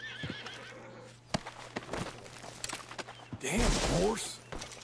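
A horse in the video game Red Dead Redemption 2 lets out a loud, close whinny near the end, preceded by scattered hoof clops and clicks over a faint steady hum, with a voice speaking briefly.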